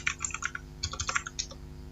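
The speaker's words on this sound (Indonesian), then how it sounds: "kita ketikkan apt update" Someone types a short command on a computer keyboard: a quick run of clicking keystrokes, a brief pause, then another burst of taps, close and clear with no talking.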